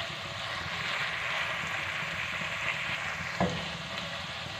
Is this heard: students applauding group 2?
no